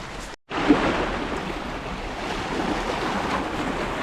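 Sea waves roll onto a beach in Apulia, Italy, a broad steady wash of surf with wind noise, continuous after a brief cut at the start.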